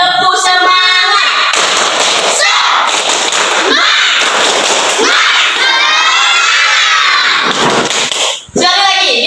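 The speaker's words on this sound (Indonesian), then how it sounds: "1, 2, 3, tepuk semangat." Schoolchildren in a primary classroom do a clapping chant together, loud shouted voices in unison with claps, close and energetic, pausing briefly near the end before starting again.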